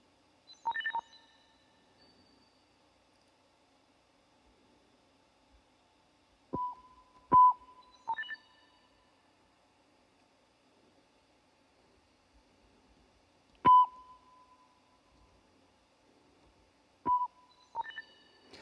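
Sparse high electronic beeps from a music mix track, each a short sharp tone, sounding in irregular pairs with long quiet gaps between them.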